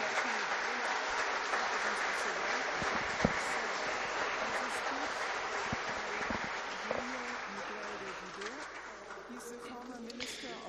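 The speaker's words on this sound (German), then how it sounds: "Bitte einen herzlichen Applaus dafür." An audience at an international conference in France applauds steadily for about ten seconds, a dense even clatter of many hands heard at moderate distance with a few voices mixed in.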